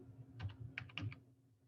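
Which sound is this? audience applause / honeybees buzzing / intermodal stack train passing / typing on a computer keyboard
typing on a computer keyboard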